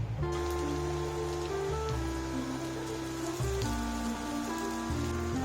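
Abalone rolls fry in a pan with a steady, close, even sizzle, no talking, while a low droning tone shifts in pitch underneath.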